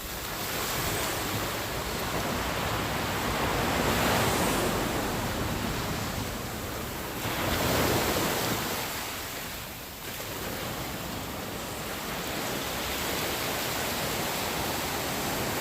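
Ocean waves on a beach near a fishing town, a loud, steady wash of surf rising and falling in slow swells, recorded close without a windscreen.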